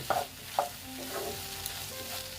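Water poured into a soybean curry that has been frying down with spices and egg, bursting into a sharp sizzle with a few stirring clacks in the pan; close and fairly quiet, with no talking.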